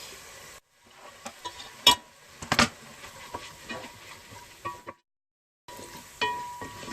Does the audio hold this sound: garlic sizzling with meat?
yes